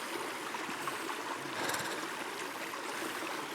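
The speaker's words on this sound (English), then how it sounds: "It's a very cute creek." A small man-made creek runs past a stone wall beside a private cabin, giving a soft, steady trickle and gurgle of flowing water, faint and unbroken throughout.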